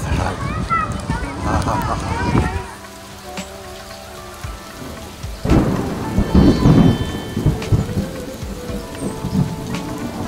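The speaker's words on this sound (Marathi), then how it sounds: "इतक्या ढगांचा आवाज सुरू झाला. तो पाऊस आलाय बघा आता." Monsoon rain pours steadily in a Pune garden while thunder rumbles and cracks nearby, swelling in loud bursts, with a voice talking over the storm.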